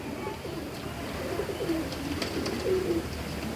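Genuine flying-breed pigeons with red eyes coo softly nearby, several low rolling coos repeating over a quiet background hum.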